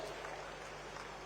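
Steady, dense audience applause greets the winning teams at a prize ceremony, a continuous wash of many hands clapping at even loudness with no voices standing out.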